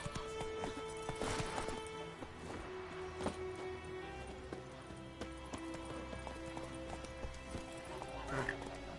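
Hoofbeats of Roach, the horse from The Witcher 3 video game, galloping in a steady clip-clop rhythm. Soft game ambience sits underneath, with a brief louder burst near the start.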